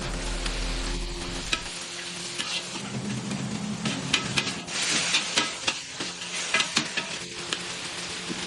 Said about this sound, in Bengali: আগুনের আঁচ আর শেফের হাতের নিপুণ ছোঁয়ায় মাছটি ধীরে ধীরে ভাজা হচ্ছে।